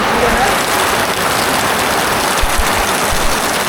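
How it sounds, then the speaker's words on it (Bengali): Steady, dense hiss of heavy rain pouring down close by on Parasnath hill, continuous throughout with a faint low rumble of thunder underneath. "বহু জোরে বৃষ্টি হচ্ছে, বহু জোরে"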